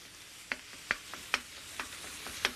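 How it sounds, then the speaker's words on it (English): Pork browning in a pan on a stovetop gives a faint, steady sizzle, broken by several sharp pops and spatters at irregular intervals. "we're going to start browning the pork now"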